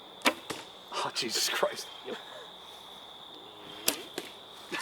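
An arrow shot from a bow during a deer hunt, a sharp close release snap followed later by another crisp strike, with a man exclaiming and quiet outdoor rustling around it.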